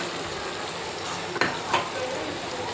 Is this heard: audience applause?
no